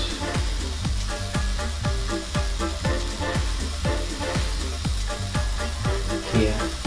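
Okonomiyaki batter sizzles on a hot griddle with a steady frying hiss, broken by repeated light scraping taps of a spatula at a regular pace, close and moderately loud.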